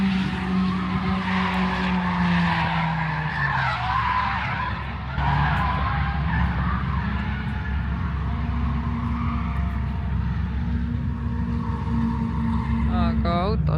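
Cars drift on snow at a winter drift training session, with engines revving and whining steadily as the cars slide past, loud and continuous throughout.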